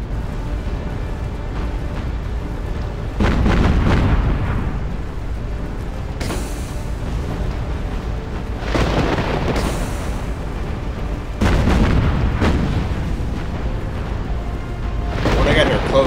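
Naval gunfire and explosions in the video game Battlestations: Pacific: loud, heavy booms break out every few seconds over a constant rumble, while voices talk over the battle.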